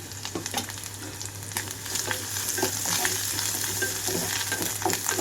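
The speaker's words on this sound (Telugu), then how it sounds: "ఇక్కడ ఉల్లిపాయలు వేగేటప్పుడే కొంచెం పసుపు కూడా వేసుకుంటున్నాను" Sliced onions frying in a pan with a little turmeric, a steady close sizzle with crackling spatters and occasional scrapes of stirring, with no voices.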